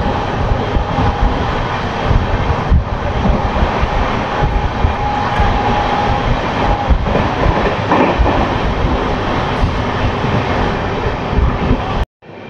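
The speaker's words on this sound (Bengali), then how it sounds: "Kolkata Sairang express Debagram station cross করছে" The Kolkata-Sairang Express, on its first commercial run, crosses Debagram station as a continuous loud rumble and rattle that holds steady for about twelve seconds, then cuts off abruptly near the end.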